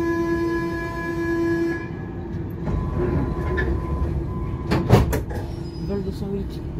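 Toulouse metro Matra VAL 206 rubber-tyred automatic train running, a steady rumble and hum with a clunk or door-like thump midway; a fading tone at the start and a voice talking briefly over the noise.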